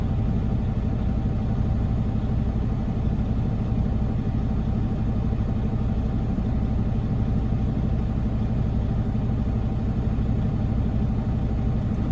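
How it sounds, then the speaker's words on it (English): A tow truck's engine idles in neutral with both brakes set, a constant low rumbling drone close by and unchanging throughout. "I got it in neutral right now, guys. Both brakes engaged."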